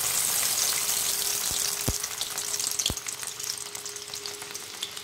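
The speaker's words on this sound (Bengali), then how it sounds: "এই ছোলার ডাল এটাকে ভালো করে ফ্রাই করে নেব" Chana dal frying on low heat, a continuous close sizzle with a few sharp metallic clinks and stirring scrapes against steel, gradually becoming more crackly, no talking.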